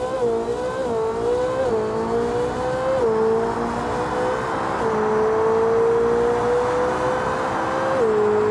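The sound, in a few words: Koenigsegg Jesko supercar driving in BeamNG.drive video game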